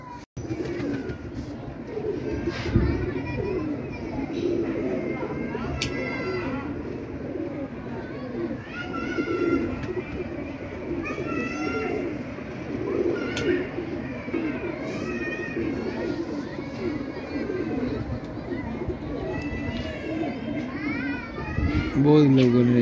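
Many pigeons kept around a neighborhood coo steadily in the background, mixed with children playing and shouting and nearby adult talk.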